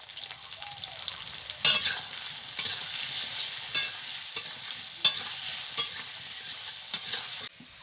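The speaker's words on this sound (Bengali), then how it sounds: "আলু আর এঁচোড়টা আমার ভালো করে ভেজে নিতে হবে" Potatoes and raw jackfruit frying in a pan under a steady sizzle, punctuated by about eight sharp scraping stirs of a spatula at irregular intervals, close and clear with no voices.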